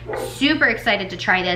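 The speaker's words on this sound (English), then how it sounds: "sorry if you can hear the dogs barking." Dogs bark in the background of an indoor vlog, their barks mixed under and between a woman's close speech.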